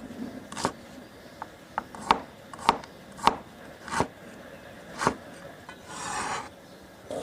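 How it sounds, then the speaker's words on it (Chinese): A knife chops ginger, scallion and garlic on a board with about a dozen sharp, close strikes at an uneven pace, with no voices. "小料再来切上一点姜葱蒜"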